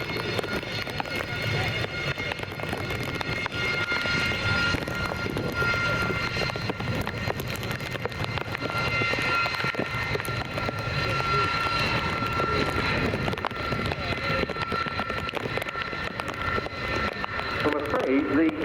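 Military jets from the Finnish Air Force F/A-18C Hornet, Italian T-346 and Typhoon making a pass at the RIAT airshow in rain: a steady, broad engine roar holds throughout, with a commentator talking over it.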